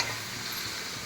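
Country chicken curry paste with meat sautéing in oil, a steady broadband sizzle with faint stirring scrapes, close and continuous throughout a brief moment with no talk.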